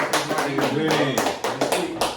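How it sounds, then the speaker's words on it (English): A small group claps for a man who has just graduated, a few uneven bursts of hand claps close by, mixed with bits of casual talk. "Y'all give him a round of applause wherever y'all at, man."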